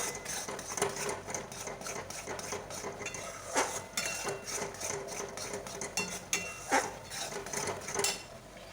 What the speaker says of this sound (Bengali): ওটাকে নেড়ে যেতে হবে যতক্ষণ না শুকনো হয়